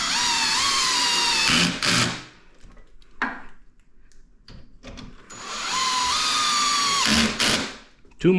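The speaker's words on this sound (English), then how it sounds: "take your drill or your Allen key, whichever one you have, and just drill them in slowly" A power drill drives screws into a wooden Mainstays porch rocking chair during assembly, two long whirring bursts separated by quiet handling clatter and brief clicks, loud and close.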